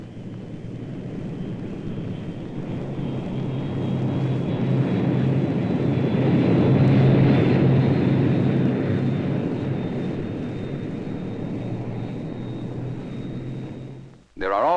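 An airplane rolls out for takeoff, a loud broad engine roar that swells steadily over several seconds, peaks, then eases and cuts off abruptly near the end.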